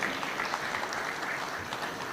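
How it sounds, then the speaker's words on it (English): An audience claps warmly for award recipients at a Taxpayer's Day ceremony, a dense, continuous wash of applause with no talk over it. "Let's give them a warm clap as they receive these awards"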